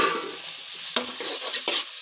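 Tomatoes and spinach frying in a dal pan with steady sizzling and a few stirring scrapes, close and alone.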